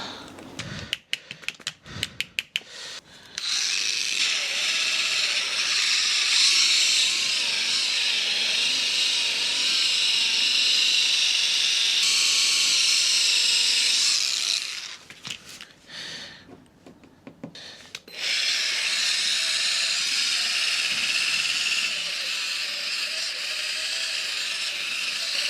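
A Duratech cordless polisher buffs a car's paintwork with a steady, high whirring drone that runs continuously, briefly breaks off midway with clicks and handling noise, then resumes.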